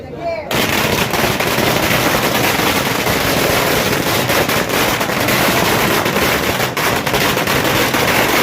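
Firecrackers burst in rapid, dense strings at a village celebration for a newly elected gram panchayat president near Nelamangala, loud crackling pops going nonstop, with crowd voices mixed in.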